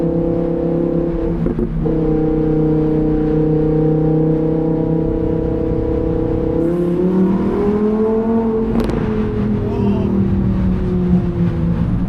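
A Lamborghini Performante Spyder engine hums steadily, then its pitch swoops and shifts as the driver downshifts, with road noise underneath throughout, driving in Tokyo.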